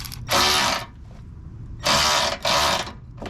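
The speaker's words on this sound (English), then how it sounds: "we can go ahead and tighten the main bolts that are holding the bracket" A ratchet wrench tightens the main bolts of a light bar bracket on a 2020-24 Subaru Outback, three loud close bursts of rapid clicking separated by short pauses.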